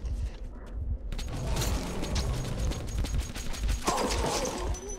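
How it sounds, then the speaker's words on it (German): Loud, continuous gunfire in Metro 2033, a steady clatter of shots fired at creatures, with mechanical creaking and clanking in the mix and no voices. "Ich verballere hier meine ganze Munition."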